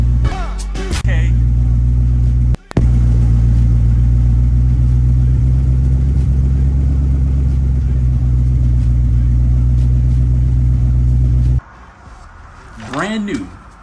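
A car with a Coyote V8 engine swap idles with a loud, deep, steady rumble close to the microphone, cutting out briefly for a moment before resuming, then the engine drops away at the end as a voice starts speaking.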